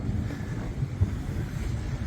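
Steady wind buffeting the microphone aboard a sailboat in rough water off Gozo, Malta, a low continuous rumble with brief gusty thumps, and no voices.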